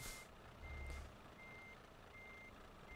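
Reversing beeps from a truck in Euro Truck Simulator 2 repeat at an even rhythm over a low engine idle, with a brief hiss of air near the start.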